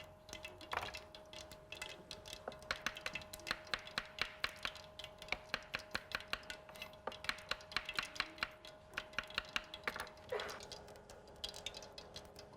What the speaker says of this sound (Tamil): சின்ன வெங்காயத்தை சின்ன சின்னதாக ஸ்லைஸ் பண்ணிக்கணும்